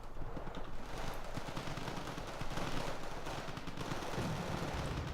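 Steady bursts of helicopter gunfire from a Lynx AH7 in the war strategy game Wargame Red Dragon, dense crackling shots mixed with battlefield rumble, fairly constant and moderately loud throughout, with no talk.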